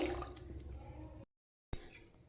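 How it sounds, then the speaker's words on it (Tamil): Water splashes and pours steadily into a pressure cooker with rice for mushroom biryani, cutting off abruptly, then resuming briefly. "2 டம்ளர் தண்ணி ஊற்றிக்கலாம்"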